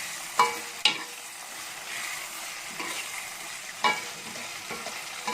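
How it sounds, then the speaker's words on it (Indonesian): Food with spices being stirred in a frying pan, a few scraping strokes standing out over a low, steady sizzle, with no voices. "kita aduk merata agar semuanya bumbunya meresap"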